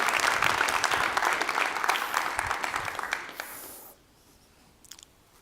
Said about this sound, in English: So a big round of applause to say thank you to those folks.